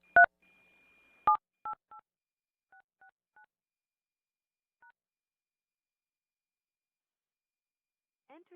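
Telephone keypad DTMF tones keying in a Zoom meeting ID over a phone line at a port commission meeting: a few sharp beeps, then a quick run of short, evenly spaced tones, clear and isolated against near silence.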